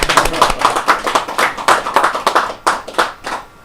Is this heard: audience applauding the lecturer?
yes